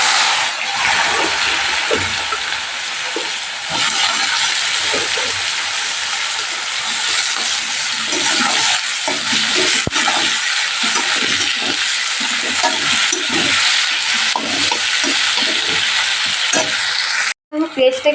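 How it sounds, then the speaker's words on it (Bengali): Onion sizzling and frying in hot oil for a meat curry with potatoes, a steady loud hiss running throughout with occasional stirring scrapes, ending in a brief break. "পেঁয়াজটা একটু ভাজা হোক"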